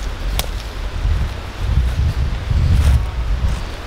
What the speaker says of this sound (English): Maybe this wind will die down and we can actually go mushroom hunting today.